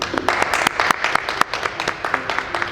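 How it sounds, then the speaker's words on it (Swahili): A church Sunday school congregation claps for Teacher Robert, a brisk run of many sharp overlapping hand claps, close and lively, with a few voices mixed in. "Tupigie Teacher Robert makofi sana."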